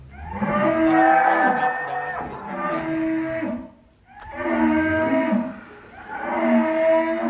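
Brahman cross cattle mooing loudly and close by, long drawn-out bellowing calls repeated several times with a brief pause between them.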